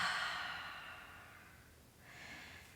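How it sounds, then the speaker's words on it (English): A single long, soft exhale through the mouth during a yoga stretch, close and gently fading, followed by a brief quieter breath. "And exhale at the mouth."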